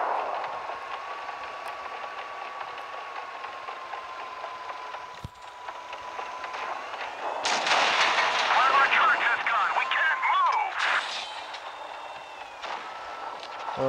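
Tank cannon and engine sounds in the mobile game World of Tanks Blitz: a steady engine drone and tone, one sharp crack of a shot, then a louder, rougher burst of battle noise.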